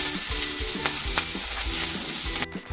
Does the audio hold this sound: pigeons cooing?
no